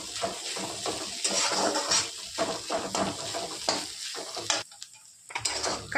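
Onion-green thecha stirred in a hot pan gives a close, steady run of spatula scrapes over a busy sizzle, with a brief quieter gap near the end.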